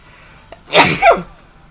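A single sharp human sneeze, close and loud, with a short intake of breath just before it, heard during a Super Mario Galaxy gaming session.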